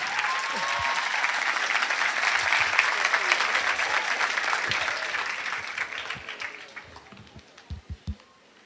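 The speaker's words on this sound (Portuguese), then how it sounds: "E recebamos agora com muito carinho a salva de palmas do Dr. Rodrigo Silva." Audience applause in a church welcoming a preacher to the pulpit, a dense sustained clapping that swells, then thins into scattered final claps near the end.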